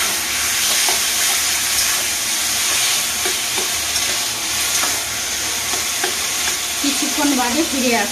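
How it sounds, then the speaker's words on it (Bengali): Dal dry-fries in a pan with a loud, continuous crackling sizzle and frequent scraping stirs, steady throughout with no talk. "ডালটা নাড়তে থাকবো, নেড়ে নেড়ে শুকিয়ে নেবো।"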